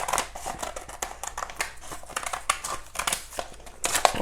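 Scissors snip through a paper transfer sheet to cut out a small bicycle picture, a quick run of close, quiet crisp clips and rustles with paper crinkling and no talking.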